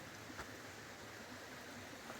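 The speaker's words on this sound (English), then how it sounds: "I just had the sound of that rushing water." Rushing stream water flows steadily beside a campsite along Long Pond Stream, a broad, even hiss of moderate loudness with no voices over it.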